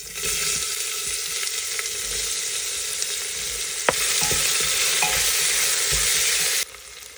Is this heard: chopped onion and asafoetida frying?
yes